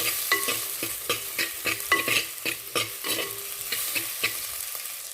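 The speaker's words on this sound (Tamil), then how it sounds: "கொஞ்சமாக உப்பு சேர்த்து வதக்கி விட்டுக்கலாம்" Onions and garlic sauté with a pinch of salt in a clay pot, a steady close sizzle broken by regular scraping stirs of a spoon against the pot, with no voices.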